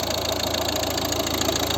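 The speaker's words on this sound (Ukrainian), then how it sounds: "Ось робота двигуна." Steady diesel idle from a 2012 Volvo V50 1.6 HDi with six-speed gearbox, heard close up under the open bonnet as a continuous even rumble with a fine rapid ticking pulse and no voices.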